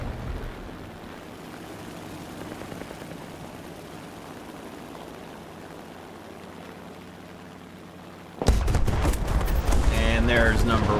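A 20mm nose cannon on a He 112 A-0 fighter in War Thunder, heard as a steady engine drone that breaks into a loud, rapid, sustained burst of cannon fire near the end.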